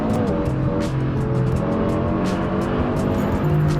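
A 400-horsepower Subaru WRX pulling hard under acceleration, its engine a steady, loud drone with layered harmonic growl heard from inside the car, continuous throughout with no talking.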